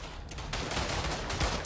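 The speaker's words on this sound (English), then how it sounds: "I hear the MP18 or an MG" Rapid automatic gunfire from an MP18 or a machine gun rattles in a brief, dense burst of shots in the World War One shooter Verdun, sounding moderately distant.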